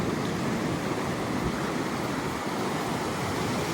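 Waves wash steadily onto St Augustine Beach as a continuous broad surf roar, with some wind buffeting the microphone and no voices.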